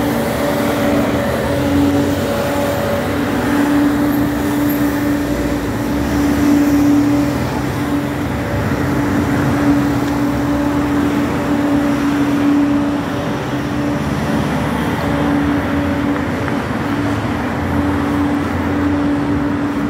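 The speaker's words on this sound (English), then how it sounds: "It's because that truck is so loud." A loud truck passes on a road near a bus stop, a sustained heavy engine roar with a steady low tone that swells and fades slightly over twenty seconds, with no talk.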